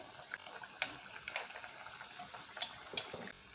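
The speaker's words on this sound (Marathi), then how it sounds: "लो टू मीडियम गॅसवरती आपल्याला सगळ्या कचोऱ्या तळून घ्यायच्या आहेत" Kachoris fry in hot oil in a kadai over low to medium flame, a soft, steady sizzle with occasional faint pops and crackles, heard close and quiet with no talking.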